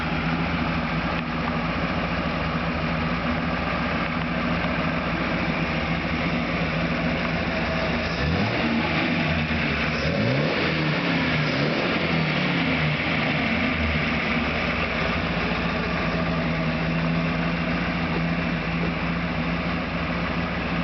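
1929 Stutz Model M Torpedo Speedster, a taper-tail classic car, idling with a steady, close low rumble; a brief rise and fall in engine pitch comes midway before it settles back to an even idle.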